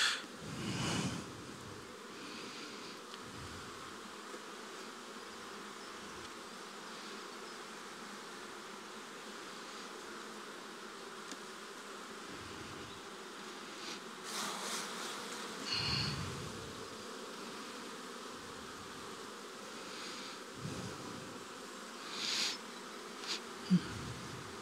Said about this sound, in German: hier waren viele junge Bienen